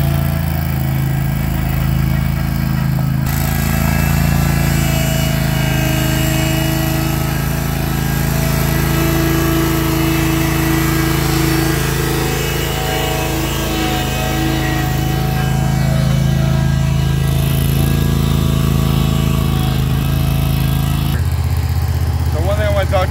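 Engine of a Stinger GT-30 ride-on turf spreader running steadily during a test drive, a loud, close, continuous small-engine drone that shifts slightly in pitch and then cuts off near the end.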